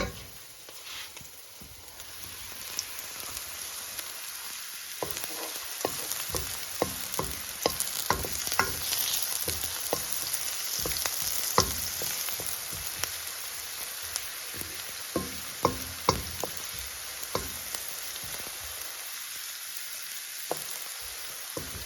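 Zucchini sizzles in a pan with salt, pepper, sugar and soy sauce, a soft continuous frying hiss broken by frequent scraping stirs and clicks of a utensil, close and fairly quiet.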